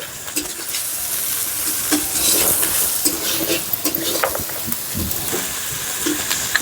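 Thinly sliced onions and tomatoes frying together with salt in a hot pan: a loud, close, hissing sizzle with busy stirring and scraping throughout, and no speech.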